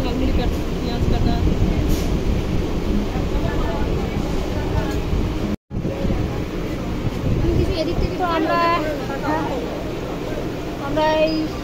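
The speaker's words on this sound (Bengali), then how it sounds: "আমরা এই ট্রেনে উঠে গেছি, দমদম নামবো" Steady rumble and rattle of a moving commuter train bound for Dum Dum, continuous throughout with a brief dropout, while people talk nearby.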